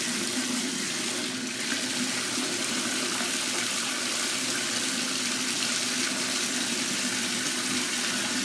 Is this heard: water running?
yes